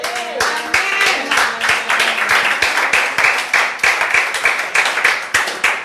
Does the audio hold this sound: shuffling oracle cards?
no